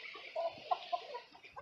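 Soft, low clucks and murmurs from a hen in a backyard flock, a few short irregular calls heard faintly against steady background noise.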